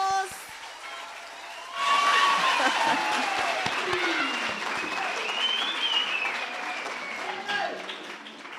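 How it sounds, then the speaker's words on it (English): An audience at an academic colloquium breaks into a round of applause and scattered cheers, swelling suddenly after a quiet start and carrying on steadily with faint voices mixed in. "Another round of applause."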